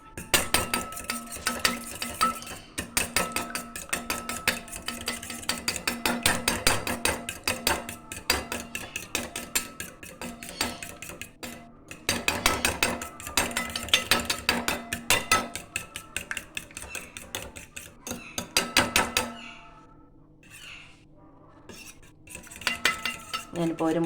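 An egg is beaten in a bowl with a utensil. Rapid, continuous clinking and tapping comes from close by and stops briefly near the end before a few final taps.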